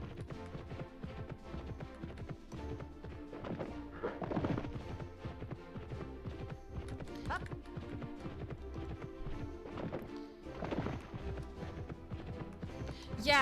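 Horse hooves clip-clop in a steady, close rhythm in the video game Petz Horsez 2, with light background music running underneath.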